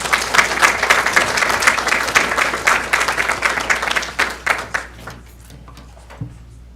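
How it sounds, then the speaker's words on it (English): An audience at a monthly board meeting breaks into a round of applause, a dense sustained clapping that thins into scattered claps over the last couple of seconds. "can we just give them a moment to give them a round of applause?"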